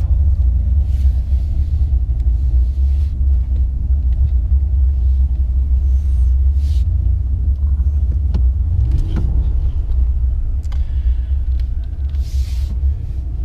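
A 2019 HEMI-powered RAM pickup in four-wheel drive auto launches down a quarter-mile strip, its engine a loud, steady low rumble that fills the whole stretch, with no talking.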